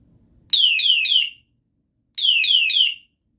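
Two loud, piercing bicycle alarm horn bursts from an LED bike light set, each a rapid warbling chirp lasting about a second, separated by a short silence.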